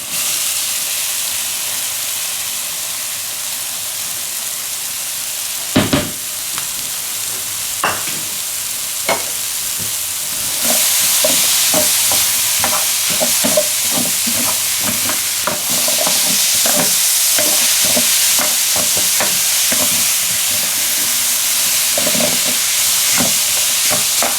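Chopped yellow onion frying in a pan with garlic chicken, a loud hissing sizzle that swells when the onion goes in, followed by repeated scraping and clacking of a stirring utensil, no talking.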